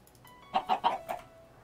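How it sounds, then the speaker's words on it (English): A chicken in the Minecraft modpack StoneBlock 2 clucks in a short run of four quick, moderately loud clucks, alone with no talk. "Chicken."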